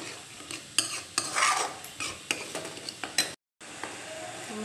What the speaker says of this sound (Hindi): ये मसालों को हम आंच को तेज़ कर देंगे और इसे अच्छे से भूनेंगे जब तक कि मसाला तेल ना छोड़ दें।